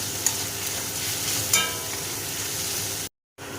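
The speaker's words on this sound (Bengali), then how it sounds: "রসুনটাকে দিয়ে আমি ভালো করে মশলার সাথে ভেজে নেব, যাতে রসুনের কাঁচা গন্ধটা চলে যায়।" Garlic paste frying with onions and spices for a chicken curry produces a continuous close sizzle with a couple of sharp stirring clinks, cutting out briefly to silence near the end.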